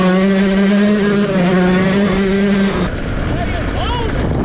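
A 250 motorcycle engine holds a steady, loud droning tone for nearly three seconds, then drops away into rougher, lower noise while people talk over it.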